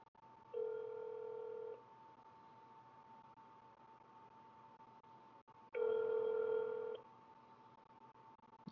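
Two ringback tones on an outgoing telephone call that goes unanswered, each a steady electronic burr lasting about a second with a long quiet gap between them, clear and alone.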